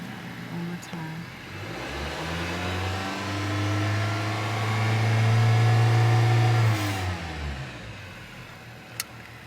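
A car engine revs up and holds a loud, rising drone, then winds back down, with a mechanical tone swelling and easing over several seconds, heard close by.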